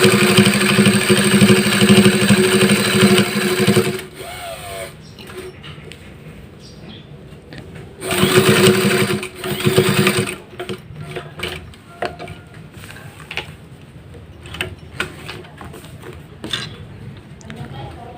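A sewing machine stitches a pair of shorts in two loud whirring runs, the first about four seconds long and the second shorter, with quieter clicks and handling between them and someone talking.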